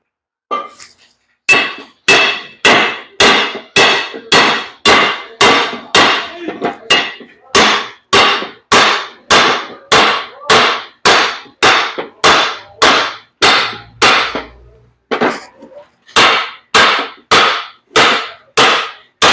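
Heavy hammer blows on a 4-inch cardan driveshaft tube ring out loud and close, a long even series of sharp metallic strikes with a short pause partway through.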